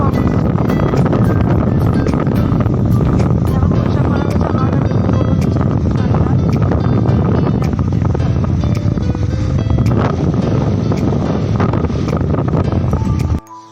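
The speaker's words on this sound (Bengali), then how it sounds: "মেঘ করেছে বন্ধুরা, মনে হচ্ছে ঝড় উঠবে। বাইরে হাওয়া দিচ্ছে" Wind blows outdoors in a yard as a storm approaches, a loud, constant rumbling buffet across the microphone that continues unbroken before cutting off abruptly at the end.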